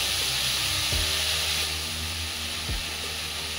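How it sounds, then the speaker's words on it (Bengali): Ground spice paste for a rohu fish curry tipped into hot oil, a loud, continuous close-up sizzle and hiss with brief sliding clatters from the bowl, no one talking. "তো এরপরে আমি বাটা মশলাটা ঢেলে দিচ্ছি।"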